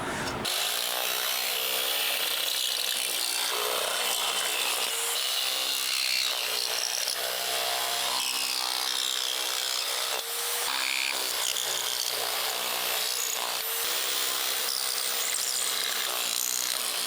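A power tool trims excess sheet metal from a rusted truck cab corner, a continuous harsh, loud cutting noise that runs steadily for the whole stretch with only slight dips, close up and without talking.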